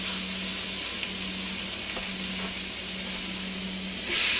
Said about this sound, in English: And you can hear it start to sizzle.